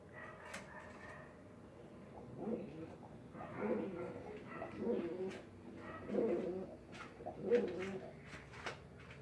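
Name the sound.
pigeon cooing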